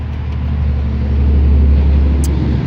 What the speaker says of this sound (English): when the cars quit going by